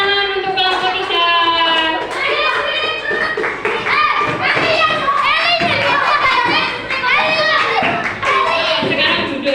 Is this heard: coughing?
no